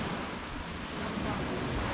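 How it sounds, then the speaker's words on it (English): Heavy rain pours on a Maldives island as a dense, steady hiss of broadband noise that holds evenly throughout, with no voices. "It was beautiful, but now it's just a lot of rain."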